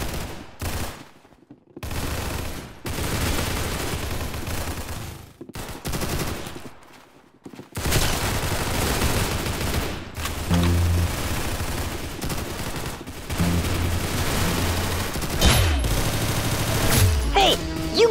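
Bursts of gunfire in the Roblox shooter Arsenal, played on mobile, crackle in repeated volleys with short silent gaps between them, loud and close, as an adult voice cheers over the shots.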